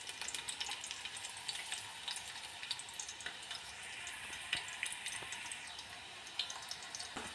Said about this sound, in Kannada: ಮೊದಲಿಗೆ ಸ್ವಲ್ಪ ಎಣ್ಣೆ ಹಾಕ್ಕೊಂಡು ಅದಕ್ಕೆ ಒಂದು ಈರುಳ್ಳಿನ ಹಾಕ್ಕೊಂಡು ಫ್ರೈ ಮಾಡ್ಕೋಬೇಕು